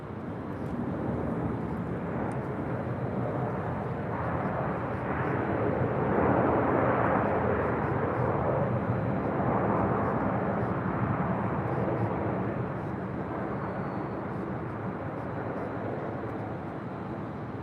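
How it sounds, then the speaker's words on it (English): An American Airlines Airbus A321 jet arriving at LAX roars past, its broad engine rush swelling to a peak midway and then slowly fading, loud and continuous with no talk. "Next arrival on the north side, American Airlines Flight 341, coming in from JFK. It's an A321."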